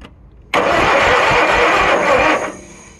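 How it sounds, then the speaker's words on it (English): Kohler Magnum 20 engine cranking, a sudden loud burst of gritty, churning starter and engine noise that holds for about two seconds, then drops away abruptly, close by with no talking. "check and make sure that fuel pump is working first"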